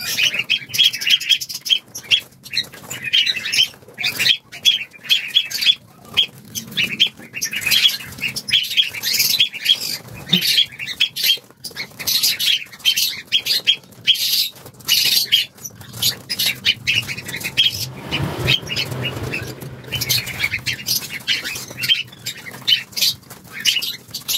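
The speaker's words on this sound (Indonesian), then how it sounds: "6 ekor burung falak sudah masuk di box pengiriman masih siap kirim siap mengisi aviari baru" Six falak birds flapping and fluttering inside a closed shipping box bound for an aviary, loud rapid wingbeats and scuffling with chirps and squawks, close and continuous.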